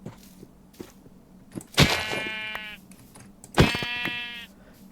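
Two loud, close video game sheep bleats sound about two seconds apart, over faint footstep-like ticks and a low hum.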